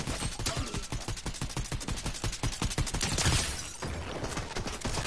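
Rapid, dense bursts of gunfire from enemies shooting in a video game, loud and sustained with a steady rattling rhythm throughout and no talk.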